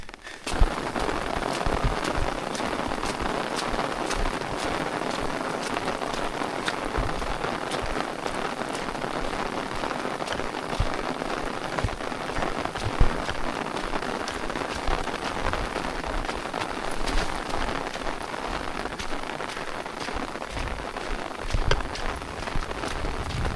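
Steady rain falls on a trail in Colorado, a dense, continuous patter of drops that holds at an even level throughout with no voices.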